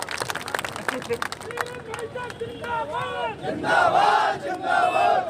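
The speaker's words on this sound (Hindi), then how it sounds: "जोरदार तालियों से स्वागत" A crowd at an election campaign rally in Madhya Pradesh, India, cheers and shouts loudly, the noise swelling into a sustained roar near the end, with a few claps mixed in.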